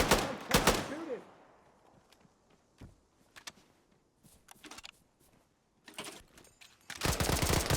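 Separate bursts of automatic gunfire in the military shooter Arma 3, sharp and fairly close, arriving in irregular clusters with quiet gaps and a heavier sustained burst at the end.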